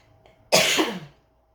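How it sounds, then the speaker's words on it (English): A single harsh cough bursts out close by after a faint quiet moment, amid heavy smoke in the air, then trails off into silence. "Excuse me for the coughing."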